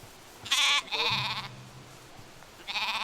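Soay sheep, a breed close to the wild mouflon, give three loud bleats, two in quick succession and another after a pause, close by over a quiet outdoor background.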